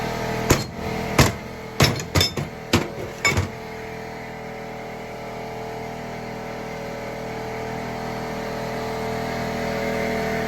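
Hammer blows rivet a wood cookstove during restoration: about eight sharp metallic strikes land in quick, uneven succession at close range over the first few seconds, then only a steady background hum remains.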